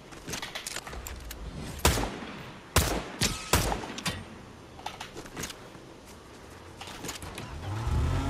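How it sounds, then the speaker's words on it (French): Gunfire up ahead in Fortnite, scattered sharp shots cracking out at irregular intervals, some close and loud, others softer, over a low rumble of game ambience. "Ça tire devant moi."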